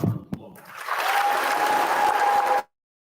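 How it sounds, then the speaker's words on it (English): A graduation ceremony audience breaks into applause after a brief voice, a dense sustained round of clapping from a large crowd lasting under two seconds before cutting off abruptly. "Please join me in giving the class of 2022 a round of applause."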